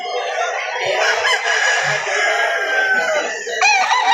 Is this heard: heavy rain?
no